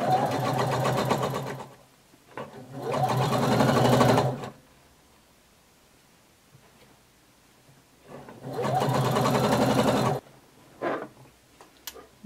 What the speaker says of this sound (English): we're going to sew all the way around our neckline, and go slow and curve as you need to